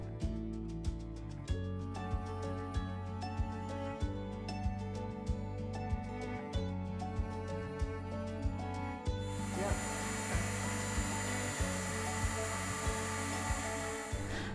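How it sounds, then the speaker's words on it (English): A heat gun dries slip on a fluted pottery bowl. A steady airy hiss starts partway through and continues under background music. "dried it again with the heat gun"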